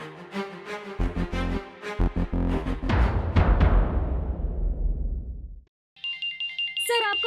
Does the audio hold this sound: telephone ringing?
yes